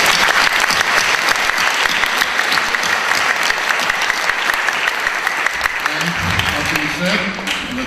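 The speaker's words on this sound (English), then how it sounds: "let's give them a round of applause" An audience at a school board meeting applauds students honored for their accomplishments. The clapping is loud, dense and sustained, then thins toward the end as voices begin to come through.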